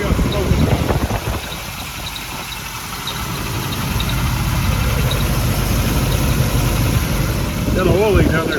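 An old, smoking Ford truck with an oil leak idles nearby in a continuous, steady low rumble. Voices talk over the engine noise.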